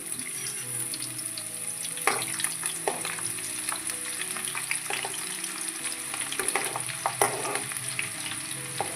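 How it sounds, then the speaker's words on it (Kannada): Garlic hits hot oil in a pan while North Karnataka-style crispy paper poha is prepared, giving a steady close sizzle broken by frequent scraping and stirring clatter. "ಈಗ ಬೆಳ್ಳುಳ್ಳಿ ಹಾಕ್ಕೊಂತೀನಿ"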